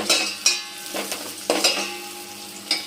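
Garlic and onion fry in a pan while noodles and vegetables are being cooked. A soft sizzle sits under several sharp stirring scrapes and clinks from a spoon against the pan, with no one talking.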